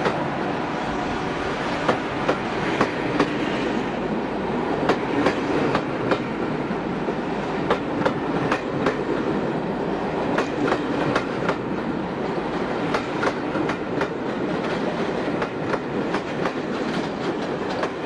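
A 1980s British electric locomotive train, 86224 Caledonian, rolls past on the rails with steady loud rumble and a regular clickety-clack of wheels over rail joints, sustained and close throughout.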